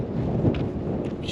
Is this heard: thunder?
yes